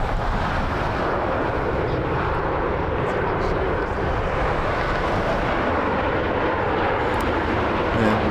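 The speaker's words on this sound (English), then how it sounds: "Aeromexico looks like he's going to be taxiing over to the ones for takeoff." Jet airliners at Las Vegas airport roll and taxi in a steady, loud, continuous roar of engine noise that fills the whole stretch without letting up.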